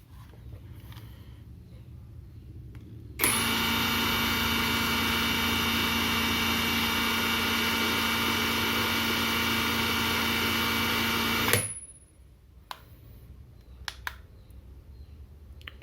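A SUNS cordless impact wrench runs at its minimum torque setting for about eight seconds, a loud steady close whine with a high tonal hum that stops abruptly, with quiet handling noise before and after.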